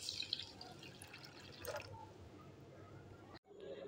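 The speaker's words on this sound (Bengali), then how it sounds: "এবার জল দিয়ে এটাকে ভালো করে ধুয়ে নেব।" Dry-roasted broken wheat (dalia) is rinsed in water, with splashing and dripping that fade into gentler trickling before a short cutoff.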